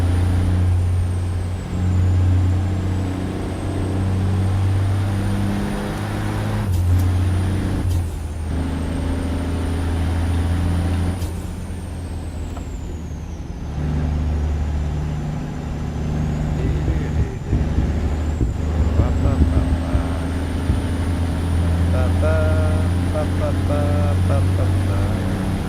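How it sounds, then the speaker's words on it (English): An empty 13-speed truck drives in a truck simulator game, its engine a steady low drone that shifts pitch as it works through gears, with brief hisses and a voice talking over it. "Truck's rapid there when it's empty, bro. For a 13 speed, she moves."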